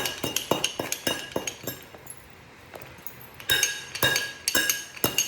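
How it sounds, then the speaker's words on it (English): A mallet taps repeatedly on gold jasper while knapping a large blade, sharp glassy clinks in an irregular close-up series with a brief lull midway. "So I'm going to take my mallet, kind of work my way up to it."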